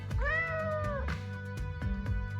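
A cat in the game Choices: Stories You Play gives one clear, drawn-out meow lasting nearly a second, loud and close, followed by a few soft clicks and taps.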